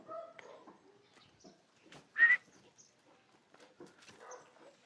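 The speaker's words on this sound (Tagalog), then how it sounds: "O, mga asong gubat." Wild dogs give a single sharp bark at mid distance, with quiet rustling and faint scattered sounds around it.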